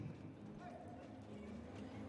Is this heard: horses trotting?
yes